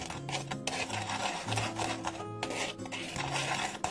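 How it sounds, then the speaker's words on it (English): Dry brownie ingredients are whisked in a bowl, making a close, busy scraping and rasping rattle of the whisk against the bowl in quick strokes, with no talk. "I've always been told you should kind of whisk the dry stuff a little bit."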